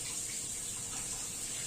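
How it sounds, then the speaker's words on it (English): Cold tap water runs steadily over salty food being rinsed in a sink, a continuous close hiss of flowing water with no talk over it. "So first you rinse it under cold water to get rid of some of the salt."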